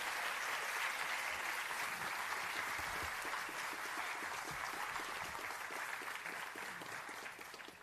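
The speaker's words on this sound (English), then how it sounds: "No, start clapping again." A live audience at a London political debate held at the O2 Indigo applauds steadily, a dense wash of clapping that stays loud throughout and fades slightly at the end.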